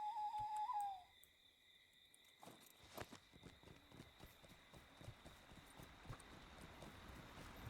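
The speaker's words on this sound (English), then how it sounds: "Get on a horse." Horse hooves clip-clopping in the fantasy game LOTRO, a steady walking rhythm of soft, repeated footfalls under ambient insect chirps, after a brief hooting tone at the start.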